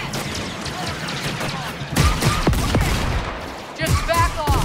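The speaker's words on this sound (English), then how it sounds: "Well, I have a grenade launcher." Grenade launcher fire and explosions in Star Wars Outlaws during a heist shootout, loud overlapping blasts and gunfire with crashing impacts in irregular bursts, with voices shouting over the combat.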